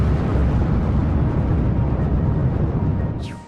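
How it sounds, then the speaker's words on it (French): A supernova explosion sound effect: a loud, sustained deep roaring rumble that fills the clip, fading slightly near the end, with a brief rising whoosh at the close. "toutes les couches de l'étoile sont expulsées dans une gigantesque explosion appelée supernova"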